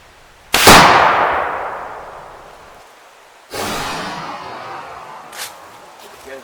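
A .357 Magnum round fired into wood cracks out sharply and close, trailing a long decaying reverberation, followed a few seconds later by a second softer report with its own echo tail and a brief faint click near the end.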